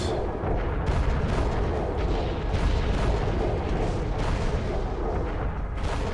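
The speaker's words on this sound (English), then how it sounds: "firing missiles" Heavy, rumbling barrage of missiles firing during a space battle in the game Fall of Kobol, dense booming blasts that roll on without a break, no voices.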